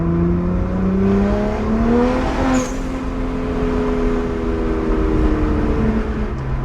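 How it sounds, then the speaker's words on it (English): A BMW 1M engine pulls and revs under load with its exhaust droning loudly and steadily, pitch rising and then settling, with a faint rattly, flatulent edge. "Other than a few little spots where you end up with a little bit of a rattle, a little farty, it just sounds pretty awesome."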